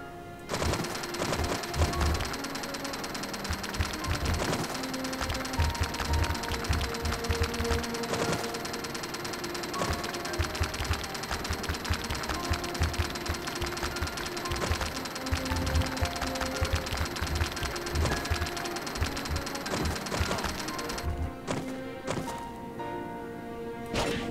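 Drilling in the video game Windforge: a dense, loud mechanical hammering and grinding runs continuously with rapid rhythmic impacts, thinning out in the last few seconds.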